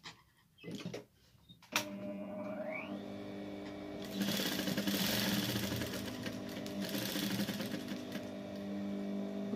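A domestic sewing machine stitches fabric for a traditional garment, starting with a few short clicks and bursts, then a close, steady mechanical whirring hum that runs on and holds to the end.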